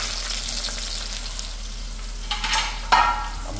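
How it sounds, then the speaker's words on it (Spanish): Rice and onion frying in a pan for a Nicaraguan pollo tapado, a steady close sizzle with a few louder stirring scrapes and bursts near the end. "Ya lavamos nuestro arroz y estamos friendo cebolla."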